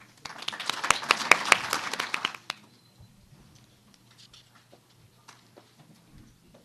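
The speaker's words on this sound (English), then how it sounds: "we would like to give a big round of applause to welcome our 2013 Shad Derby Queen candidates." A crowd at a Shad Derby gala gives a brisk round of applause for the queen candidates, dense clapping for about two seconds before it stops abruptly, leaving a few scattered claps and quiet room noise.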